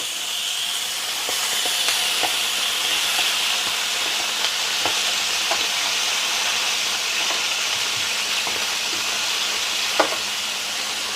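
Sausages browning in a hot frying pan give a steady close sizzle and hiss, broken by occasional small pops and crackles and a louder spit near the end, with no talk.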